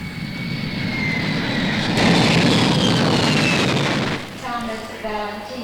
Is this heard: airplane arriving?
yes